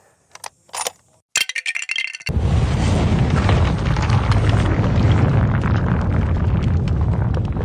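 A single hard gunshot crack fired during a reconstruction of the Trump assassination attempt, preceded by a few sharp clicks and followed by a long, sustained roaring wash of noise.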